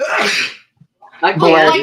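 A single close, loud sneeze comes first, then a short pause, and then someone starts talking.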